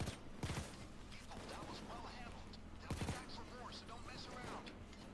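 Bursts of rapid video game gunfire crack sharply twice, with mechanical weapon reload clicks and clatter in between, under a continuous game soundscape.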